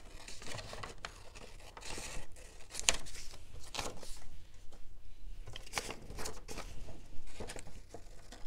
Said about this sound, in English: we'll go ahead and cut this with the scissors.